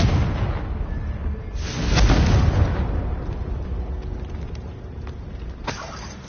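A Confringo blasting spell goes off in Hogwarts Legacy, a loud booming explosion swelling around the two-second mark and rumbling away, with lesser thuds and a sharp crack near the end.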